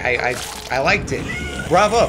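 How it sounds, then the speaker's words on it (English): A house cat meows several times, close and loud, with drawn-out, wavering cries between bits of a man's speech. "That's my cat."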